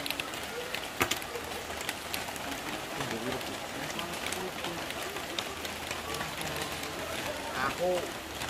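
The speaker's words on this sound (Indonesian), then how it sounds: "enaknya nongkrong ditemani suara rintik-rintik hujan" Light rain patters steadily on a surface at a cafe in a pine forest, soft and continuous, while people talk nearby and a bird calls faintly near the end.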